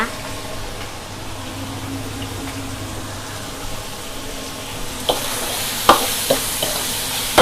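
Red curry paste stir-fries in a pan for a shrimp curry in a home kitchen, a low continuous sizzle under faint background hum, then a brighter hiss with a few sharp spatula clacks near the end.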